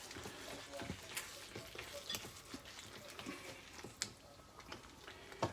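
Cashew nuts and spring onions fry in a pan, a soft, steady sizzle broken by scattered ticks and clinks of stirring, faint and close.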